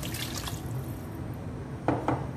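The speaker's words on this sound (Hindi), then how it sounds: "अब मैं 2 गिलास पानी डालूँगी" Water pours steadily into a cooking pot while meatball curry is being prepared, a close, continuous splashing wash with a couple of brief clinks and drips near the end.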